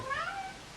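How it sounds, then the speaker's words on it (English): A pet cat named Patty meows indoors, a single short, close call that trails off quickly with no talking over it. "That was my cat."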